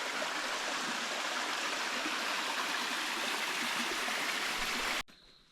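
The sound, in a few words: mountain stream of clean flowing water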